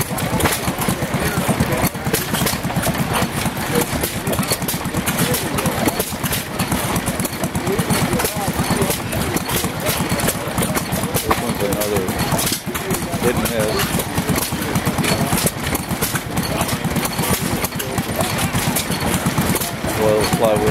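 An antique gas engine runs steadily at the Rio Linda gas engine show, its repetitive chugging continuing throughout under frequent nearby talk from onlookers.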